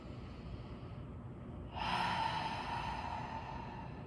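Yoga group breathing in through the nose and out through the mouth, a quiet, soft stretch followed by a louder, airy exhale that slowly trails off.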